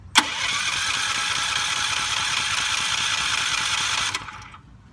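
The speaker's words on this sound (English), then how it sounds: "I'm gonna go ahead and try to start it again" A Duromax Hybrid XP4850 generator, primed with the choke closed, is pull-started and its engine roars into a steady, loud, close drone for about four seconds before cutting out and fading away.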